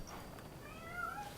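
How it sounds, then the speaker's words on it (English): A cat meows on a rooftop in the video game Rise of the Ronin, giving one short, faint, rising cry that stands alone without talk. "There's a cat on the roof that is showing up for some reason."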